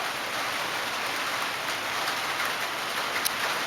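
Rain falls in the background of a Batavian Revolt battle game, a steady soft hiss of rain on a surface with faint scattered drops, even and continuous without speech.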